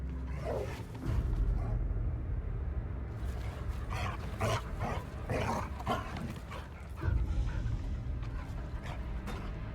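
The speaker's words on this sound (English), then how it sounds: "He's a puppy." Puppy barking and yipping in the horror game The Casting of Frank Stone, several sharp barks and whimpers in irregular bursts over a steady dark ambient backdrop, no talk.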